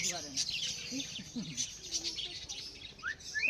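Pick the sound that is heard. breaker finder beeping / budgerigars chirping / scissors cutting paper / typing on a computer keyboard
budgerigars chirping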